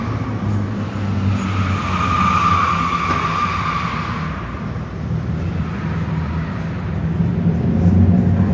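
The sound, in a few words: Dodge Scat Pack and RT cars driving past loudly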